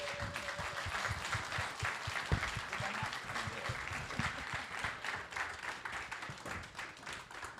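Applause for a lecturer at a memorial lectureship event, an even spread of clapping from a sizable audience, moderately distant and sustained, with scattered sharper claps and faint crowd noise.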